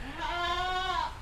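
A single drawn-out goat bleat on a goat farm, a wavering, nasal cry lasting about a second, fairly close and clear over quiet background noise.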